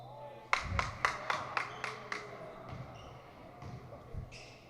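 A high school boys' varsity basketball crowd breaks into a quick run of sharp, evenly spaced claps, then scattered softer claps and noise continue over the gym's steady background hum.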